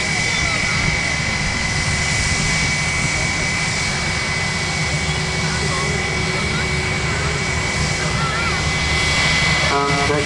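A jet airliner roars steadily at Manchester Airport, a loud, broad engine rumble that stays constant throughout, with a voice talking over it.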